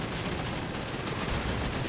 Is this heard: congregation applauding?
no